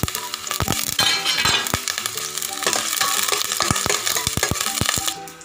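Garlic frying in oil in a pan over a lowered flame, a steady hissing sizzle broken by frequent sharp clinks and scrapes of a utensil against the pan, close and fairly loud.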